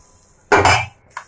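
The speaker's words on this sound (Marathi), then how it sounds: "आता असं हळूवार तावेच्याने साईडने घ्यायचं आणि परतवून घ्यायची भाकरी" A metal spatula scraping and clanking against a thick iron tawa while lifting and flipping a bhakri flatbread; one loud scrape-and-clank, then a brief fainter tap, close up and with no talk.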